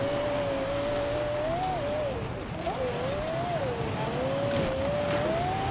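A rear-wheel-drive car drives through deep snow in Forza Horizon 4, its engine droning steadily with a rising and falling pitch, under a continuous background rush, while someone talks over it.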